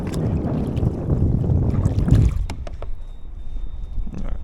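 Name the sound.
south wind blowing on the water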